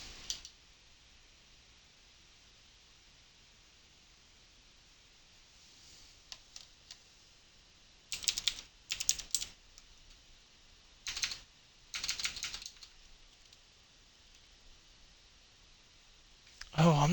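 Clusters of fast key clicks from a mechanical computer keyboard during an online racing game session, coming in short bursts separated by quiet pauses, fairly close and moderately loud.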